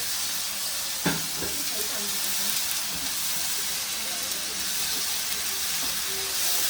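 Tomatoes tumble into a pan of frying onions for a dhaba-style egg magaz masala, a brief splash at the start giving way to a steady, close sizzle and hiss of frying that runs throughout.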